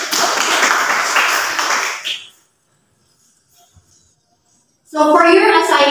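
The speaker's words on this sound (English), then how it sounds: "Please give a round of applause." Classroom applause for the winning group in a math class demonstration, a dense burst of clapping lasting about two seconds, then quiet, followed by someone speaking.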